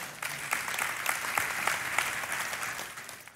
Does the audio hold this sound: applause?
yes